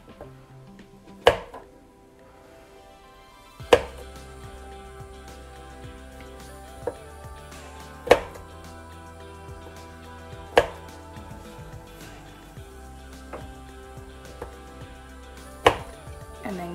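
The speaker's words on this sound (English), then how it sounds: "go until you have cut all the cucumber" A small knife chopping cucumber on a board in a home kitchen making an Italian pasta salad: sparse, sharp single knocks spaced a few seconds apart, close and clear over quiet background.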